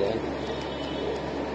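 Pakistani Teddy pigeons coo softly in a loft, a low murmuring coo that blends into a steady room hum.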